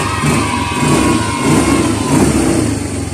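Yamaha Mio i 125 scooter engine, a bike with a battery problem, running and revving up close: a loud, slightly throbbing motor note swells and eases in short pulses without any speech.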